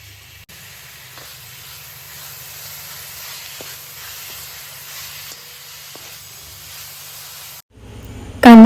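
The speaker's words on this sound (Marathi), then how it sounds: "कांदा जरासा परतला की आपली शिजलेली भाजी या कांद्यावर घालायची आणि ही भाजीसुद्धा व्यवस्थित तेलात परतून घ्यायची" Wild forest greens sautéing in oil over sliced onion give a steady, close hiss and sizzle with faint stirring scrapes, ending in a sudden louder noise.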